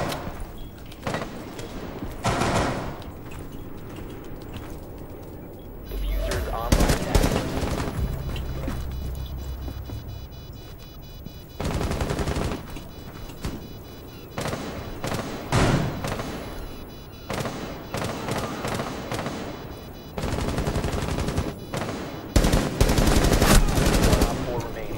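Heavy gunfire in the Rainbow Six video game during a bomb mission, with dense bursts of automatic weapon fire and loud shots clustered in repeated volleys, some stretches rapid and overlapping, others briefly quieter.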